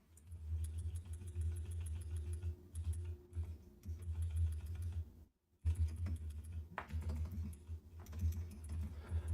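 Rapid keystrokes on a computer keyboard run in near-continuous bursts with one brief pause, close up against a low background hum at a programmer's desk.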